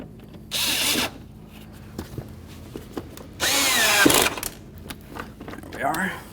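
A power tool drives fog light mounting bolts on a Dodge Caliber in two loud whirring bursts, each about a second long, with quieter handling noises between them and a short third burst at the end.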